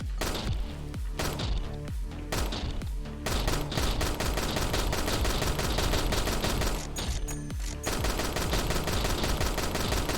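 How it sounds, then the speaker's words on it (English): Destructible objects blow up in a video game under development: a loud, rapid barrage of sharp blasts and crashes, bursting in quick succession for several seconds with only brief gaps. "we got things that'll blow up. The explosion's pretty big on these right now"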